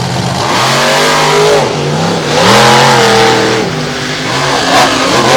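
Monster trucks Avenger and Tailgater race side by side in a championship event at Evansville, their big engines roaring loud and continuous with rising and falling revs as they charge down the track.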